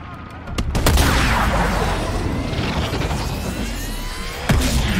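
Gunfire from Call of Duty Cold War: a few sharp shots open, then a sustained loud wash of shooting and debris-like noise, with another hard crack near the end.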